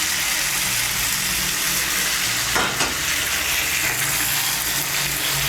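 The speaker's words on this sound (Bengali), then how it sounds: "এর মধ্যে দিয়ে দিচ্ছি হাফ কাপ গরম জল" Half a cup of hot water poured into a pan of sautéed mixed summer vegetables for a vegetarian panch mishali sabji, a loud continuous sizzle and bubbling hiss with a brief splashing burst midway, no talking.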